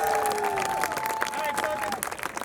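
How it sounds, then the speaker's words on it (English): Crowd noise from onlookers at a street juggling show in Prague, a broad wash of applause and cheering with a sustained whistle-like tone over it, loud and close throughout. "if I catch this, everybody clap"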